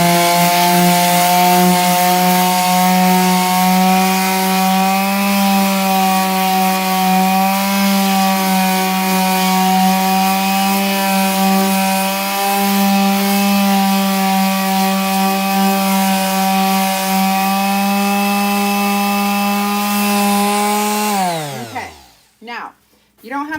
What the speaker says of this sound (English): I'm going to sand.